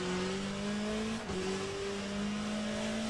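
A race car in the Le Mans Ultimate sim racing game, its engine droning loud and steady with rising pitch through the gears and a brief shift dip, with no talk over it.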